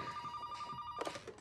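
A telephone rings during a family gathering in a film, a repeated electronic bell trill carrying steadily before other scene sounds break in at the end.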